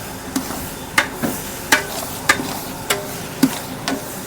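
Tomatoes and capsicum sizzle in a pan with bay leaf for an aloo matar bhaji, a soft steady fry broken by regular spatula scrapes and knocks about every half second.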